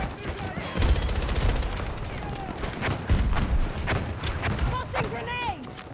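Rapid bursts of gunfire crackle in a Battlefield 2042 firefight, dense automatic volleys and sharp cracks punctuated by louder booms, with a voice talking over the shooting.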